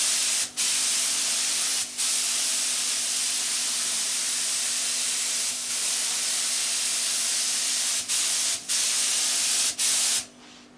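Aerosol spray paint hisses steadily as another overlapping coat goes onto a rifle stock, turning it from green to reddish brown; the long continuous hiss breaks off briefly several times between passes, close and alone with no talking.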